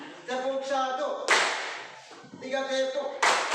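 Pupils in a classroom clap together once, giving a loud, sharp group clap that follows a teacher's spoken command. A second burst of clapping comes near the end.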